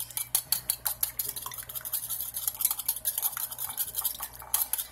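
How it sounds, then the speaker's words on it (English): A whisk beating ingredients in a bowl in a home kitchen, a rapid series of light metallic clinks and scrapes against the bowl, close and steady throughout with no talking. "Okay, so let me whisk this up."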